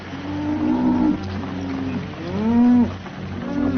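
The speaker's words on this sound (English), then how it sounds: "Keep the cattle moving." Cattle in a herd being driven, several loud drawn-out moos overlapping at close range above a low background rumble, no talk.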